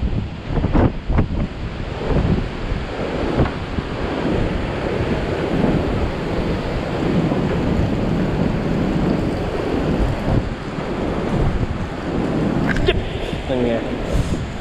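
Strong wind gusts roar in a loud, continuous rush, buffeting the microphone with heavy low rumble, while people talk over it.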